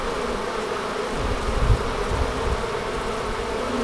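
Honeybees fanning at the entrance of a newly split hive make a dense, steady buzzing hum, close and continuous, with individual bees droning past now and then.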